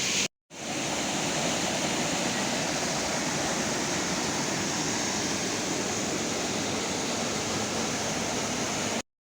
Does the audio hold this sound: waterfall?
yes